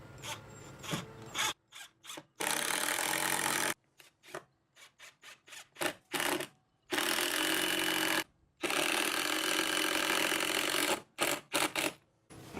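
Power drill driving a 3.5 inch screw through a door jamb security shield on an entry door, in several loud, close bursts separated by short pauses.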